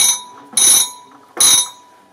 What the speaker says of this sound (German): musste dreimal geläutet werden. Das war dann für die Gegenstelle das Zeichen, das Gespräch ist vorbei.